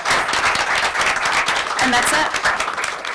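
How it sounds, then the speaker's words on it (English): Student audience applauding Lauren, chair of the SEC, at a university student government debate, a steady dense clapping that fills the room while a speaker briefly talks over it. "I want to end with a round of applause for Lauren"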